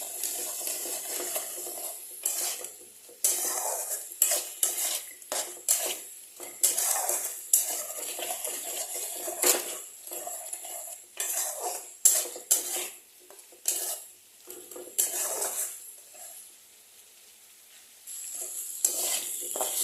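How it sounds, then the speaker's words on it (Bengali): Spiced fish curry masala is stirred and sautéed in a pan for a long stretch, with close irregular scrapes and clatters of a spoon against metal over a light sizzle. "এখন আরও কিছুক্ষণ এটাকে কষাতে হবে"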